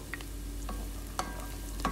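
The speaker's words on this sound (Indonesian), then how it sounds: "Aduk-aduk, wortelnya kita tumis juga bareng dengan bawang." Diced carrots and garlic stirred and sautéed in a pan, a soft steady sizzle broken by a few sharp scrapes of the spoon against the pan.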